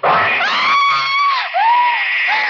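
A woman in a radio drama screams loudly and at length, a shrill sustained shriek that wavers in pitch, dips briefly, then rises again, close and unaccompanied.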